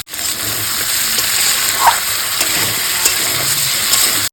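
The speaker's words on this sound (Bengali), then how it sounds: "এবার ভেজে রাখা ফুলকপি দিয়ে দেবো এবার দিয়ে দেবো ভেজে রাখা আলুগুলো" Fried cauliflower and potatoes tipped into spice paste frying over the flame, making a loud, continuous, close-up sizzle with small spatters throughout and no voices.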